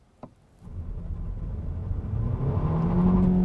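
A 2017 Hyundai Ioniq plug-in hybrid pre-production prototype's engine starts under load, a low rumble and rising whir swelling steadily from quiet to a louder, climbing drone after a brief click.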